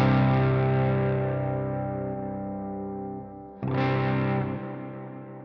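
Distorted electric guitar run through a Bogren Digital MLC Subzero 100 amp simulation, a loud sustained chord ringing and slowly decaying, then a fresh strike around midway that rings out before being cut short, with no talking.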